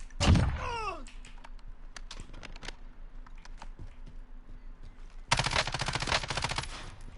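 Gunfire in the video game Warzone: a sharp opening shot followed by scattered distant pops and clicks, then a dense burst of rapid automatic fire near the end, with no talk over it.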